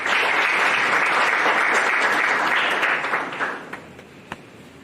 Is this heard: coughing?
no